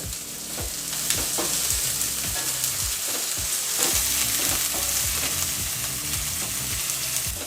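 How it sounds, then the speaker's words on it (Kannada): Steady crackling sizzle of onions frying in a pan, with repeated scraping stirs and soft clinks throughout, close and fairly loud, no voices. "ಈರುಳ್ಳಿನ ಸೇರಿಸ್ಕೊಂಡು ಒಂದು 3 ರಿಂದ 4 ನಿಮಿಷಗಳ ಕಾಲ ಚೆನ್ನಾಗಿ ಫ್ರೈ ಮಾಡ್ಕೋಬೇಕಾಗತ್ತೆ"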